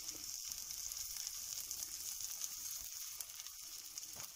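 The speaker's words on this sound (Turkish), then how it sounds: "tereyağı ile bu şekilde yağlıyorum" Butter is brushed onto the cooked side of a pastry in a hot pan, giving a steady, close sizzle with faint soft brushing and no talk.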